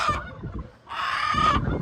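Hens harassed by roosters squawk and cluck nearby in two loud, raspy bursts separated by a short lull.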